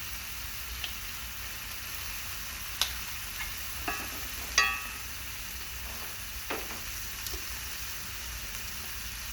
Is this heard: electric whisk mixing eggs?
no